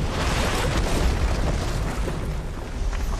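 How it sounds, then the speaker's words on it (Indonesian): A sustained, rumbling roar of a booby trap explosion in war fills the clip, dense and loud throughout without distinct separate blasts. "mereka menemukan sebuah jebakan yang sengaja ditinggal dan meledak"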